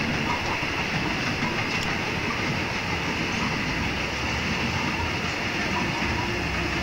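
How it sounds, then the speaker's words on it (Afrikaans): A train passes near a house in Florida, a steady, loud rumble with wheel clatter throughout. "Daar gaan die trein."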